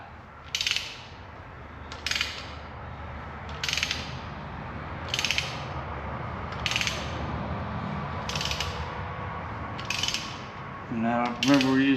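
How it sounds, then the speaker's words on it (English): A hand ratchet tightens a bolt on a Ford 3.5 EcoBoost engine during a rebuild, giving a series of about eight evenly spaced, crisp close clicking bursts, with no talking. "We get a ratchet, start ratcheting on it, and we'll start pulling it up."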